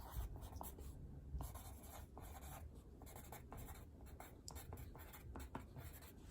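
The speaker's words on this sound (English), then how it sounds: "All that's left to do now is write the dinosaur's name on it." Pen or pencil writing a dinosaur's name, Dracorex, onto a paper drawing, a close, steady scratchy scribble of strokes with brief pauses between letters.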